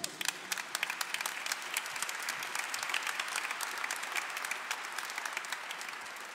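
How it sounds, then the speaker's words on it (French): Steady, dense applause from a church congregation honoring a couple's 18th wedding anniversary, continuous and fairly near with crisp claps from start to finish. "On peut les applaudir."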